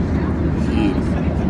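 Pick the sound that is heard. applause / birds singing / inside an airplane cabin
inside an airplane cabin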